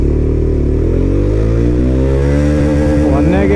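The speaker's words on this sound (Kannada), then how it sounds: "300cc ಬೈಕ್ ಇದು, ತುಂಬಾನೇ ಅಂಡರ್ ರೇಟೆಡ್ ಬೈಕ್ ಇದು ಇಂಡಿಯಾದಲ್ಲಿ." A Mahindra Mojo BS6 300cc motorcycle accelerates hard in first gear, its engine note climbing steadily in pitch, loud and close, ending with a shift-like break near the end.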